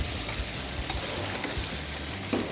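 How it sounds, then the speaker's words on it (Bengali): Chicken pieces frying in about a cup of oil in a kadai for dhaba-style kadai chicken, giving a steady, dense sizzle with stirring scrapes throughout, close and continuous, with no talking. "চিকেনটা ঢেলে দিলাম"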